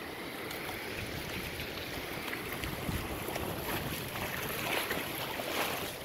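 Ocean waves wash continuously onto a beach at Ilha Comprida, a broad steady roar of surf with wind, no voices heard.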